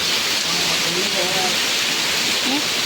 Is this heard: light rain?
yes